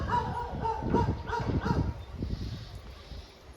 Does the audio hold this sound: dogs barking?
yes